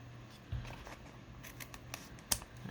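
Scissors snip and trim paper for an embossed print made with book pages, a few quiet cuts with faint rustling and one sharper snip near the end, no talk.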